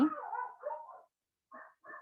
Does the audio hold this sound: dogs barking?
yes